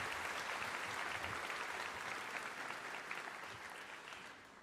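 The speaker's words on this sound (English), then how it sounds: "please help me in giving them a round of applause" Steady audience applause fills a 2024 graduation ceremony hall for a girls' leadership school, a broad even rush of many hands clapping, fairly faint and distant, slowly tapering.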